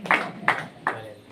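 Three sharp, evenly spaced hand claps ring out close by in a lecture hall, each a crisp slap with a short decay, and no other sound between them.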